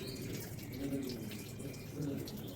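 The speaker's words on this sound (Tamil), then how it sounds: "என் பக்கத்தில் வந்து நின்று தண்ணி குடிக்கிற பாருங்க" An animal drinks water close by, with faint wet splashing and lapping under quiet nearby talk.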